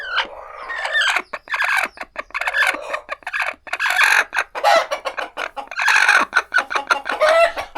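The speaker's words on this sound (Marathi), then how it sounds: "तो हा जो आवाज आहे ह्याच्याने तुम्हाला कळते की कोंबडी जी आहे ती कुडूकवरती बसलेली आहे" A broody hen sitting on her eggs gives agitated, rapid clucks and squawks when a hand reaches toward her, loud and close, with no talking over the calls.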